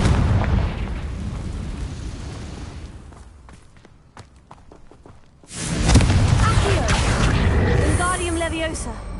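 Confringo fire spell explosions in the Hogwarts Legacy video game, a roaring rumble of blasts and crackles that fades into sparse pops, then a fresh loud burst of fiery explosion noise.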